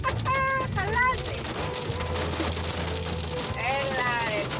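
Heavy midday hail pelts window glass in a dense, loud, continuous clatter, while excited voices talk over it.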